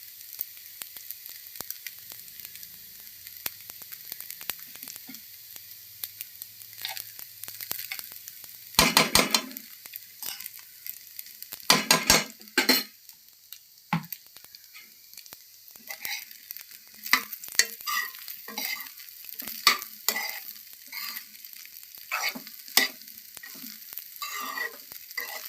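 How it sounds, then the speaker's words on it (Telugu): Vijaya Gold ghee sizzles softly in a pan in a home kitchen while a spoon stirs and scrapes it in scattered bursts, close and fairly quiet, with no speech. "విజయ గోల్డ్ పాలలోంచి తీసిన నెయ్యి ఇది కొంచెం వేసుకుందాము"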